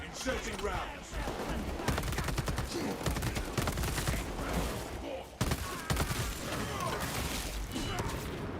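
A bolt carbine fires in Warhammer 40,000: Space Marine 2, rapid heavy bursts in a dense, loud, continuous stream with a short gap partway through, mixed with explosions and clashing battle noise.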